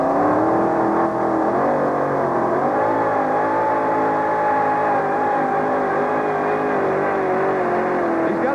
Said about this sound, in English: they know Bob Borba is really going to turn the noise level up here in Anaheim right now